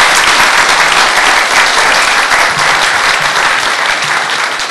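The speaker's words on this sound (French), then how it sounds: "on va les applaudir chaudement" A large audience applauds at a business forum on major infrastructure projects in Côte d'Ivoire, loud dense clapping that holds steady throughout and eases slightly at the end.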